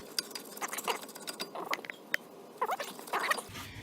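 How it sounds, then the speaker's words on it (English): A hand ratchet tightens the front brake caliper bolts on a 2012-2016 Ford Focus, giving irregular bursts of close, sharp clicking with short pauses between pulls. "You know what I'm doing, I'm just tightening these up."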